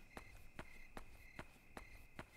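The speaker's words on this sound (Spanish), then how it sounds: "Se escuchan los grillos. Los grillos en la noche." Faint, steady chirping of crickets at night in the horror video game Yomawari: The Long Night Collection, a thin continuous trill under evenly spaced footsteps that tap about twice per second.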